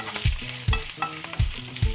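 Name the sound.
ginger frying in a pan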